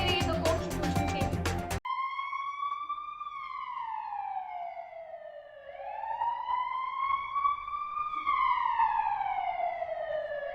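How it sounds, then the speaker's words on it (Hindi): Advanced life support ambulance siren wailing loudly and continuously, its pitch sweeping slowly up and down, preceded by a short burst of music. "advance life support ambulance"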